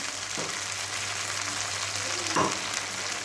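Eggs and spices frying in a pan with a little water added, a steady close sizzle throughout with a couple of soft knocks, no talk.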